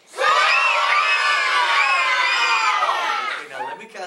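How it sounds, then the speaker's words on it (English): A group of children shout their names all at once in a loud, overlapping burst that holds for about three seconds before trailing off into scattered voices. "I want you to all yell out your name as loud as you can."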